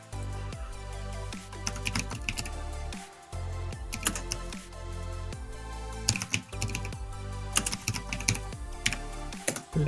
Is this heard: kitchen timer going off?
no